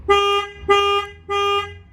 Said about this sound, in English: Normally you should get 2, but if you ever get 4, that means the alarm went off.